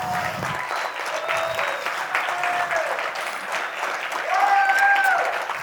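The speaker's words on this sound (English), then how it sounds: "That was the perfect time to clap because I really needed water." Audience applause at a live sales training event, a sustained round of crowd clapping heard close and steady, with some whoops and vocal cheers rising near the end.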